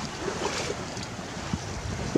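Steady wind on the beam rushes past a sailboat with water sloshing against the hull, broken by a few soft creaks and knocks.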